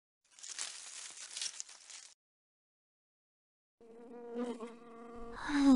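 A buzzing cartoon bee in Disney's Ready for Math with Pooh game, a steady insect drone for about two seconds, then a pause before tonal game music and chimes take over.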